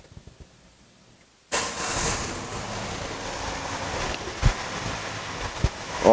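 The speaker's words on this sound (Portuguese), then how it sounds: "Agora a gente vai dar a partida no veículo" A Peugeot/Citroën THP petrol engine with a misfire cranks after near silence and catches, settling into a close, rough idle with occasional louder knocks and clunks.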